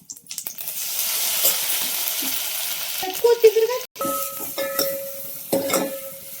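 Cumin, curry leaves, garlic and coconut hit hot oil in a pan, bursting into a busy sizzle and crackle, followed by utensil scrapes and metallic clinks as the mix is stirred up close.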